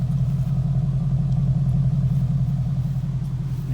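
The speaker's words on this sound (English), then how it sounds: "You can hear the exhaust." A 2015 Ford Mustang GT with a Ford Performance Borla exhaust idles after a cold start with a low, steady, mellow exhaust rumble, deep and even throughout, with no talking.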